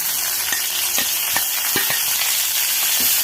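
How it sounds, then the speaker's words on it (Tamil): Mint leaves sautéing with onions in a hot pan for mint chutney, a steady close sizzle with a few sharp stirring scrapes, no voices. "இந்த ஸ்டேஜில் நான் புதினா தழையை சேர்த்து வதக்கிறேன்."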